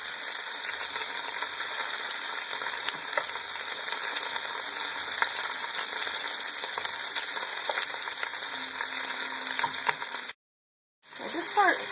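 Cauliflower sizzling and browning in hot oil in a pan, a steady close frying hiss throughout with light stirring scrapes, cutting out briefly near the end before resuming.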